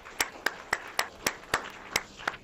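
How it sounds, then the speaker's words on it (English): Applause for a policy discussion panel, though only a few hands are heard: about nine distinct, evenly spaced claps in a steady rhythm, fairly near, over a faint background. "That's applause for the entire panel"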